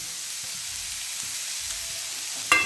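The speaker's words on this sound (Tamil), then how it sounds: "அருமையாக வதக்கிட்டோம்" Tomatoes sauté in a hot pan with spinach greens, a soft, steady sizzle close by, ending in a brief sharp scrape or clatter of a utensil.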